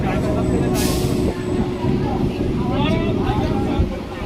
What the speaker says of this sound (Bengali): এসে পৌঁছালো আমাদের ট্রেন